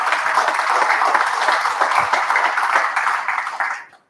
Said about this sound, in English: So one more round of applause for the Chief.